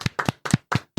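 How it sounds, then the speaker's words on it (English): Hand claps ring out close by, five or six sharp strikes in an uneven, slow rhythm with short gaps between them, and no one talks over them. "They did ask for some hand claps not too long ago."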